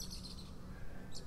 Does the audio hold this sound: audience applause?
no